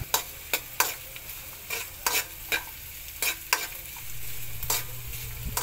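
Native chicken adobo stirred and frying in a pan with onion, a steady sizzle under repeated sharp scrapes and clinks of the utensil against the pan, close and moderately loud, with no talking.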